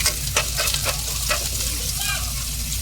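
Garlic, carrot and spring onion sauté for chicken soup, sizzling with a constant hiss in a hot pan as a spoon stirs in a few quick scrapes, up close and loud.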